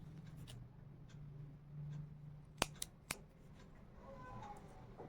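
Scissors snip crochet thread with two or three sharp, close clicks of the blades over a soft, steady room hum and faint handling noise.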